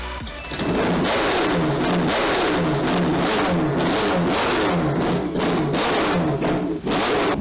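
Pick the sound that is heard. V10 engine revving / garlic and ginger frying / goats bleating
V10 engine revving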